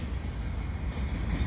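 A CN freight train rolls steadily past in the autumn afternoon, a continuous loud low rumble of rail cars and wheels with no voices.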